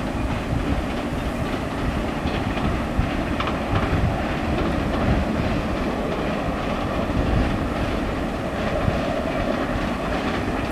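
Train cars passing close by in a rail cutting, a loud, sustained rumble with steady clickety-clack of wheels and a touch of metallic squeal, running unbroken from start to end without voices.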